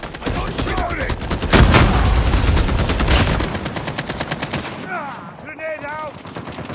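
Rapid automatic gunfire and bursts from a Call of Duty Mobile 10v10 match, loud and dense for several seconds with heavy crackling volleys, then thinning out as game effects and chirps take over.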